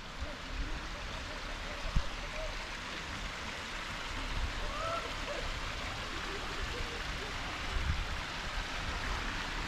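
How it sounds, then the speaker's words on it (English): Steady rushing water from a mountain stream in Glencoe, Scotland fills the scene, a constant broadband wash with a few faint thumps mixed in. "you can hear some water down on that side"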